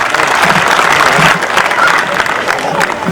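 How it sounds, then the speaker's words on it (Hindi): Crowd applause at a Hindi kavi sammelan poetry gathering, a loud continuous wash of many hands clapping that swells and eases slightly, with faint voices mixed in. "एक बार आसमान तक तालियां दें"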